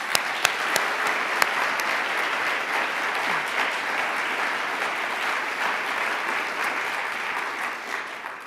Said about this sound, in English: with lots of applause and love